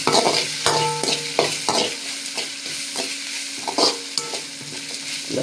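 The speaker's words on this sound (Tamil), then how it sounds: "அதில் உருளைக்கிழங்கு, பச்சை மிளகாய் எல்லாம் போட்டு வெங்காயத்தில் நல்லா வதக்கலாம்." Potato pieces and green chillies sauté with onions in a pan: loud, close sizzling with repeated metallic scrapes and taps of a spoon against the pan in an irregular stirring rhythm.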